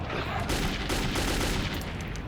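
Sustained gunfire from Khan shooting enemies in the video game Metro 2033, a dense, continuous burst of rapid shots that stays loud and unbroken throughout, with no voices.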